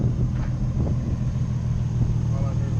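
A Nissan 350Z fitted with an angle kit and new wheels rumbles steadily nearby, a low continuous engine drone with no clear revving.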